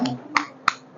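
Two or three sharp, separate hand claps, close and fairly loud, offered for a group in a classroom-style session, with a brief murmur at the very start and no sustained applause.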